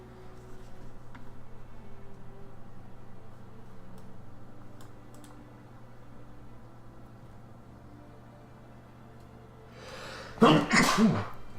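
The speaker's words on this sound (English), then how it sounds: "Oh, sneezing." After a quiet stretch of faint keyboard ticks during a Steel Division: Normandy 44 game session, one loud, close human sneeze bursts out near the end.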